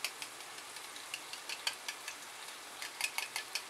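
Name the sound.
stirring a dahi bhindi (yogurt okra) mixture in a pan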